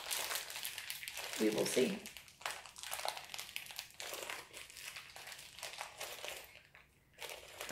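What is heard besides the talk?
crinkling packaging being opened for a Lego Pikachu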